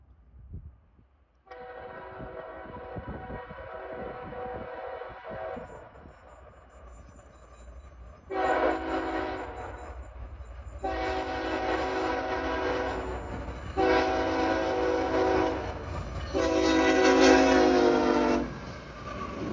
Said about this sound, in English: CSX 1836, the RF&P Heritage Unit came through on M565 from Selkirk, New York to the bar yard in Chicago, Illinois